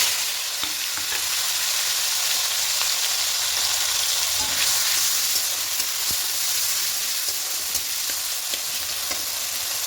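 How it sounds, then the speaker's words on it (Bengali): Chopped onion and tomato frying together in the oil left after frying fish, for a potato and catla fish curry, a loud continuous sizzle with occasional stirring scrapes and no voices. "এবার এই তেলের মধ্যেই দেব পেঁয়াজ কুচি আর টমেটো কুচি একসঙ্গে দিয়ে দেব।"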